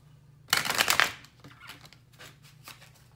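A deck of oracle cards is riffled in one close, crisp flurry lasting about half a second, followed by softer scattered shuffling and card handling.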